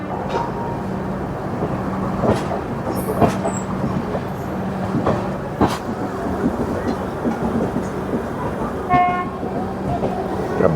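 A locomotive hauling the Kamakhya–Anand Vihar North East Express rolls past with a continuous rumble and clatter, a few sharp horn toots and tonal blasts rising over it, while people speak nearby.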